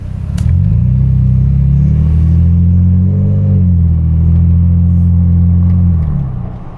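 A Toyota Tacoma pickup with a pedal commander, set to Sport throttle mode, drives off with a loud, steady low engine drone that rises slightly mid-way, holding near and continuous throughout with no talk.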